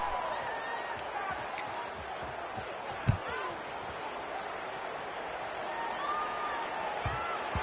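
Stadium crowd murmur from the college football video game NCAA 25 fills the background as a steady wash, with a brief thump partway through, while a commentator talks over it.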